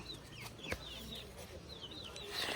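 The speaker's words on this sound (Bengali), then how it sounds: "দেখো দেখো কিউট কিউট মুরগির বাচ্চা ছাদে এরা মুরগি পালে" Young chicken chicks on an open rooftop give repeated faint, thin peeping calls in quick bursts over quiet background noise, with no talking.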